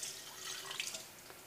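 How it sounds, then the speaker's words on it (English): Water is poured onto a can of Coca-Cola in a short, faint, steady splashing trickle lasting just over a second. "Put a little bit of water"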